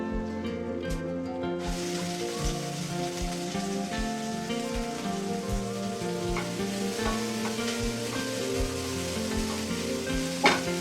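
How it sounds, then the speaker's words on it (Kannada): Onions fry in groundnut oil for a dum biryani, a steady broadband sizzle holding throughout with soft stirring scrapes under background music, and no voices. "ಆನಿಯನ್ ಒಂದು ಸ್ವಲ್ಪ ಫ್ರೈ ಆಗೋವರೆಗೂ ಫ್ರೈ ಮಾಡ್ಕೊಬೇಕು"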